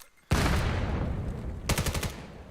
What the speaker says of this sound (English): The entire team getting picked off by nades and a swing from Dank.